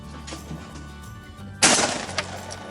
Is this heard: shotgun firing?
yes